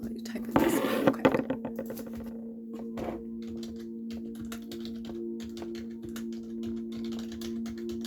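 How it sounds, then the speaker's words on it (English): Computer keyboard typing, a quick burst of close clicky keystrokes followed by scattered taps under a steady hum, with a person speaking softly nearby. "let me type in this real quick"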